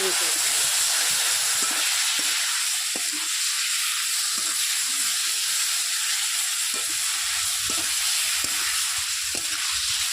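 Water poured into a hot pan of turmeric and chili spices, giving a steady loud hiss and sizzle with scattered stirring knocks throughout.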